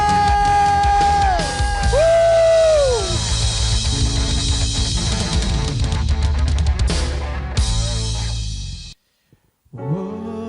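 A church congregation yells and whoops hallelujah loudly together over worship music, a sustained burst of shouting that cuts off abruptly near the end before sound returns.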